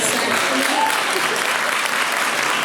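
An audience at a fireside chat bursts into loud, dense applause that stays steady and close throughout, with no other sound standing out.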